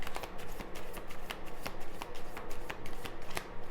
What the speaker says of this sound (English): going to shuffle again